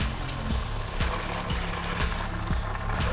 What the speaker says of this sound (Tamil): இப்போ இதுக்கு தேவையான தண்ணி சேர்த்துடலாம்.